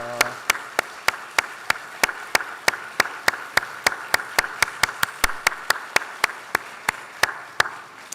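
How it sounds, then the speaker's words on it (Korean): A church congregation at an evening revival service claps together in a steady, even rhythm of about three sharp beats per second, sustained throughout with no talking over it. "우리 안성호 목사님 다 같이 뜨거운 박수로 한번 축복합니다"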